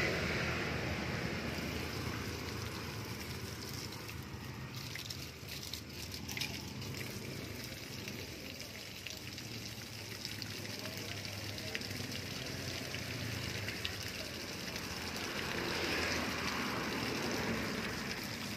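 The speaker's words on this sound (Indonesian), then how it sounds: "Daunnya tetap sambil kita siram." Water sprays from a hose onto the leaves of durian seedlings, a continuous broad hiss and patter that holds steady throughout, close by and alone.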